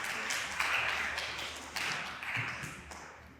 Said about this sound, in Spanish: un fuerte aplauso para el biólogo Gonzalo